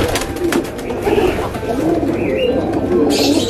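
Pigeons in a colony loft of squabs being paired, cooing steadily with soft wing rustles and bird calls, nearby and fairly loud throughout.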